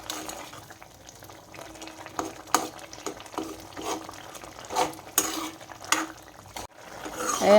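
A spatula mashes cooked taro stems in a pot: repeated scraping and soft knocking strokes in an irregular rhythm over a quiet simmering background, fairly close.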